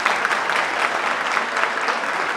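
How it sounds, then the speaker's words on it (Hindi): Students, parents, faculty and guests at the Parmanu Defence Aahwan Euphoria 2025-26 event break into vigorous, sustained applause, a thick steady roar of clapping at full strength throughout. "सभी लोग एक बार जोरदार तालियां बजा दें"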